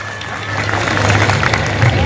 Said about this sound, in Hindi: उनके लिए एक बार जोरदार तालियां हो जानी चाहिए